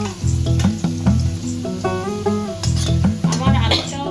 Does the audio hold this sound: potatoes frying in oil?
yes